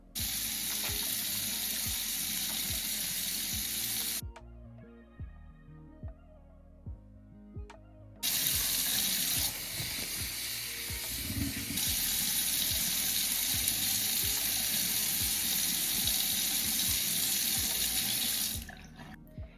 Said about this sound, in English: I'm going to do a thorough wash, especially in these times, on my hands first